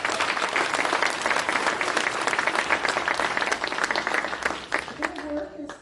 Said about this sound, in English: I would like you guys to give a round of applause to our council.